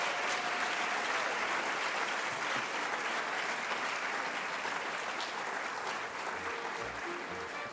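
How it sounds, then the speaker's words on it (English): Audience at a 2008 Miss Strassenfest pageant gives the contestants a steady round of applause, continuous dense clapping heard from a distance at an even level throughout. "we want you to give everybody a big round of applause"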